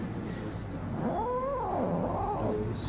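Cat at a veterinary consultation giving a drawn-out, rising and falling meow over a steady room hum, fairly close, with no clear talking.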